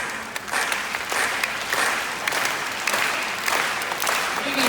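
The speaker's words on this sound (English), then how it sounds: "Now you all can try to clap as much as you want to distract him." Audience clapping at a sea lion show at Singapore Zoo, steady scattered applause from a crowd throughout, moderately loud with pulses of denser clapping.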